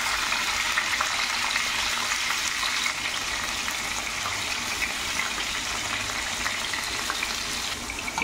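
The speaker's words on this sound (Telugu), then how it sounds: "గ్యాస్ ఆన్ చేసుకుని ఆయిల్లో కొన్ని ఆవాలు వేసుకోవాలి" Mustard seeds and soaked chana dal fry in hot oil for a Konaseema-style jackfruit curry, giving a loud, dense, steady hiss with faint popping, close up and without voices.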